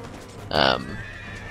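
Horses in a cavalry clash in the video game Empire: Total War give a single short, loud whinny over a low battle din.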